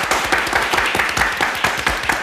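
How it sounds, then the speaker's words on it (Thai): An audience at a live talk event applauds the cast of the series Nithan Pan Dao. The clapping is loud and close, with a fairly even rhythm of sharp hand claps, and no one speaks over it. "ขอเสียงปรบมือให้กับพี่ออฟน้องมิกแล้วก็น้องเอิร์ธจากนิทานพันดาวครับ"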